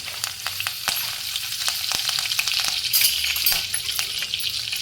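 Mustard seeds crackle and pop in hot oil while tempering with two dried red chillies and curry leaves for sambar, a dense, close sizzle with quick irregular snaps throughout, no talking.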